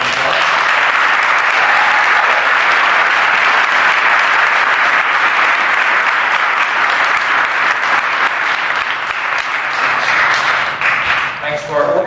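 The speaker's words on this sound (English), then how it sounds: "Please give them a vigorous round of applause." A crowd at a university marijuana debate breaks into loud, sustained applause, dense and continuous for over ten seconds, tapering slightly at the end.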